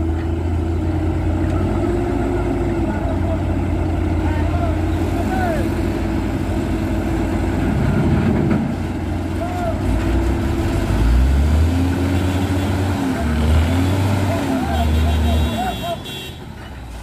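Heavy truck engine laboring to tow another truck whose cabin was crushed by a fallen electric pole, droning low and rising in strained surges, with people talking over the engine.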